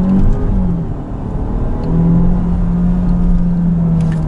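A DS 7 Crossback, shifted into first gear by paddle in manual mode, accelerates with a close, rumbling engine note that dips and then climbs steadily in pitch.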